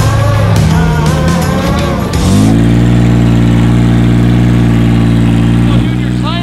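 A fake Lamborghini off-road car's engine runs steadily and loud throughout, with a revving burst early on and a constant idle-like drone after, with people talking over it.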